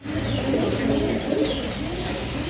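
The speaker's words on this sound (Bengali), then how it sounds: "মাশাআল্লাহ আরেক জোড়া কবুতর আছে এখানে," Pigeons cooing at a busy pigeon market where pairs are sold, soft low coos layered over crowded background murmur and bustle, moderately close.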